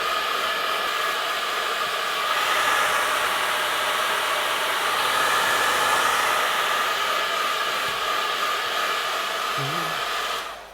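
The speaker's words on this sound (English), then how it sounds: "I'll dry it with a hairdryer" A hair dryer blows steadily to dry paint on a portrait, a loud, constant whooshing hiss that runs unbroken and then cuts off at the end.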